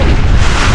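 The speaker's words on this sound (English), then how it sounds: "The panels are rattling because it's very windy" Greenhouse panels rattle in strong wind on a rainy Irish day, heard as a loud, close, buffeting roar of gusting wind with rumbling low-end blasts and no speech.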